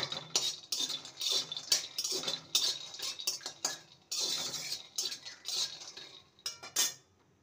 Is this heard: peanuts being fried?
yes